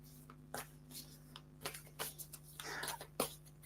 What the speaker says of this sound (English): let's just keep shuffling these cards